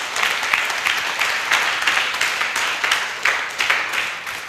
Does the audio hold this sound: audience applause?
yes